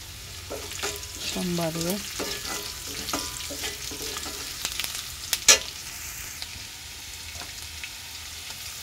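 Cumin seeds hit hot oil in a pan while cooking fish with greens, giving a steady bright sizzle with stirring scrapes and clinks, and a brief spoken word near the end.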